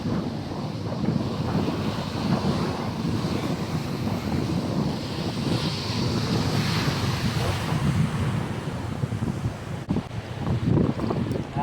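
Large ocean waves crash on a beach with a continuous roar of surf, while heavy wind buffets the microphone throughout.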